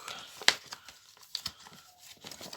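A paper budget envelope is handled while cash is sorted, giving soft crinkling and rustling with one sharp crackle near the start and lighter paper sounds later, close and fairly quiet.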